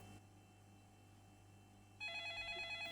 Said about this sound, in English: Which is when I heard a phone ringing